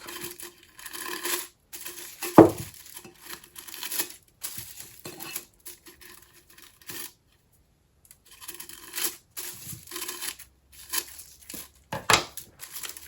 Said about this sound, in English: I'm going to go around and just trim bits of paper off.